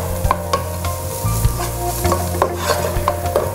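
Garlic frying in a pan, a steady close sizzle with repeated stirring scrapes and clicks, no talking.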